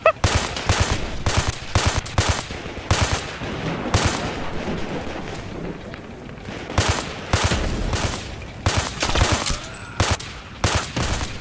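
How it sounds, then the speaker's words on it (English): Gunfire in the VR shooter game Zero Caliber VR, with loud sharp shots arriving in irregular clusters and single cracks across the stretch, close and dominant over faint background noise. "They got a sniper somewhere again."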